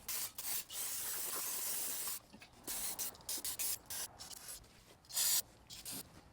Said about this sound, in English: Now I'll just hit everything with some brake clean.